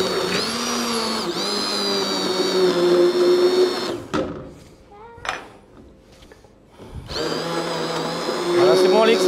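A blender purees soup in loud, steady whirring bursts, running hard, stopping for a few seconds of quieter clatter and talk, then roaring again at full speed.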